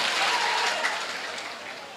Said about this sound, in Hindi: एक बार दोनों हाथ का जोरदार तालियां चेयरमैन साहब के लिए बजाएं